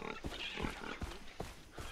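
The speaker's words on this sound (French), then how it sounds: "Bah, il y a un cochon." A pig grunting and oinking in Far Cry 3, several short rough snorts in quick succession, close and moderately loud over faint game ambience.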